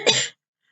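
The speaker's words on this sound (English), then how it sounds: "That is a cough." A single short, sharp cough, close and loud, followed by silence.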